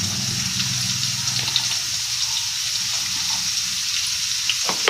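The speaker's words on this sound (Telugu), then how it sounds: "ఇవి వేపాలి, ఒక 5 మినిట్స్ అట్లా వేపాలి" Onion fries with coriander and curry leaves in a pan for uggani, a steady hissing sizzle that stays close and even throughout, with no voices.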